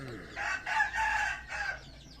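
A rooster crows close by in one long, strained call that breaks into a shorter second phrase, with faint clucking from other hens in the background.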